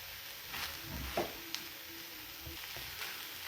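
Spoon stirring matki usal, a sprouted moth bean curry, with chopped coriander in a pan, giving soft scraping and a gentle sizzle with a few light clinks, quiet and close.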